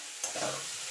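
Cauliflower florets hit a hot pan on high heat, a loud burst of sizzling flaring up at once and then settling into a steady, close crackle of stir-frying with no voices.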